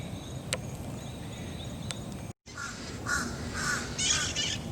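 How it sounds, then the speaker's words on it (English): Birds sound warning calls outdoors, several sharp isolated caws in the first half followed by a cluster of brighter, repeated calls after a brief dropout, over a constant insect-like background hiss. "the birds warning of danger"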